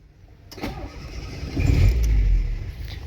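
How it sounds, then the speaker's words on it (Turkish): Car engine cranking and catching via a push-button start-stop system, a brief starter whir followed by the engine firing and settling into a rough idle, close and fairly loud. "Ve arabamız bu şekilde çalışıyor arkadaşlar."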